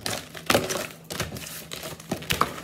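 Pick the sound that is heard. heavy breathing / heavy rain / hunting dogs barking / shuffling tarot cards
shuffling tarot cards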